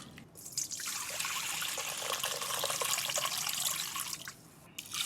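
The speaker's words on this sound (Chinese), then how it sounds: "接下来加上适量的清水，先把豆子和米全部都给它清洗干净。" Rice and beans being washed by hand in water in a basin, a continuous close swishing and trickling with small splashes, no voices.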